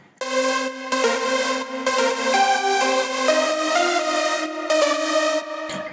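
A Nexus "Magnetron" synth lead preset plays a melody of rich, harmonic sustained notes in short phrases, clear and prominent, with no voices present.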